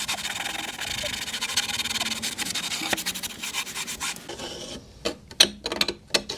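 Close, rhythmic scrubbing strokes rasp across an antique wooden chest of drawers being cleaned with crud cutter, the rubbing dense at first, then turning into sparser, sharper scrapes.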